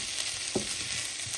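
Khichuri, a rice and dal mixture, sizzling and frying in a pot over medium heat with a soft scrape of stirring partway through, steady hiss throughout.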